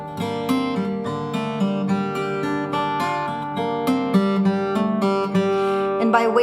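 Acoustic guitar fingerpicked with each bass string doubled up, a short steady run of plucked notes with a repeated low bass pulse under ringing treble strings, close and alone.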